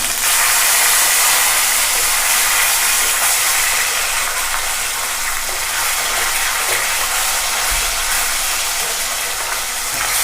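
Katla fish pieces frying in hot oil over a raised gas flame, a steady dense crackling sizzle that stays loud and close throughout with no talking.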